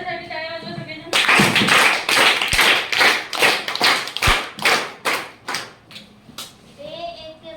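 Children in a school classroom clap together for a classmate in loud, rhythmic bursts with thumps, while young voices are heard before and after.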